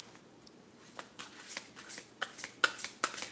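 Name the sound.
shuffling tarot cards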